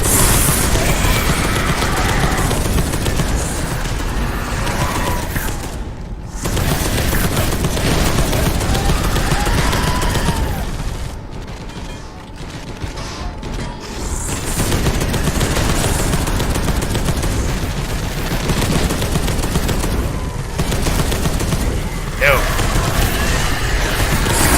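Sustained gunfire and bursts fill a Space Hulk: Deathwing Enhanced Edition battle, a dense continuous barrage with booms that barely lets up, with brief lulls and voices shouting over the shooting.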